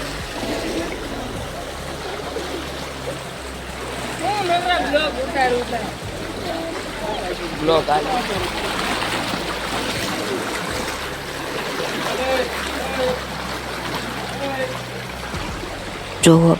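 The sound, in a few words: floodwater flowing near a house after heavy rain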